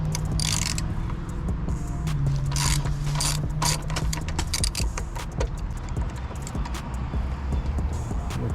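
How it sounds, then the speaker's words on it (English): A hand ratchet loosens a 14 mm bolt on a 2020 Honda Accord with rapid clicking pawl bursts, close and fairly loud, in uneven spurts over a few seconds. "This is a 14 millimeters, so I'm just gonna use my hand tool to take it off."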